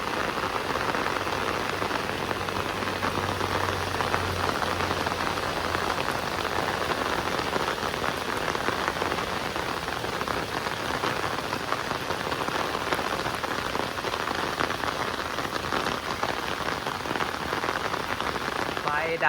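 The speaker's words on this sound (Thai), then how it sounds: "บรรยากาศฝนตก" Steady, heavy rain pours down continuously on a hard surface during a power outage, a dense, even hiss with no voices.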